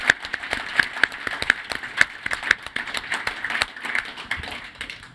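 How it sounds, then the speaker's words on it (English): Scattered, fairly light clapping from an audience at a Boston Scientific big data challenge event, individual claps standing out as sharp taps over a steady background of room noise. "So big round of applause for them."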